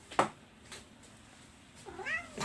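A house cat meows twice in a room during card-making, a short sharp cry near the start and a longer rising-falling meow near the end, both fairly close over quiet background.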